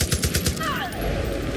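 Machine gun in the Far Cry 5 zombie DLC firing a rapid burst of about six shots in the first half-second, followed by a fading tail and background game noise.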